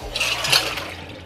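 Water mixed with Cafiza espresso-machine cleaner is poured out and splashes into a sink, a short close gush of liquid that fades out with no speech.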